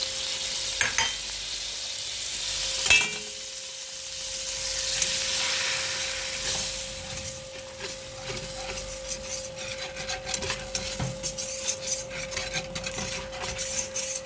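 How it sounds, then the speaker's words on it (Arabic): Butter and flour toast in a pan for béchamel, a soft steady sizzle with ongoing scraping and stirring strokes of a spoon against the pan, close and continuous without speech. "هلا نحمصهم شوي بحيث بس تروح طعمة الطحين."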